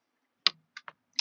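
Keys tapped on a computer keyboard while typing a short search, four quick separate clicks with gaps between them, close and fairly quiet, no talking.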